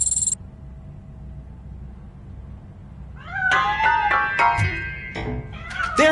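A cat in the Robocop video game lets out a string of rising and falling meows after a short sharp blip and a quiet lull, the calls loud and close, overlapping near the end.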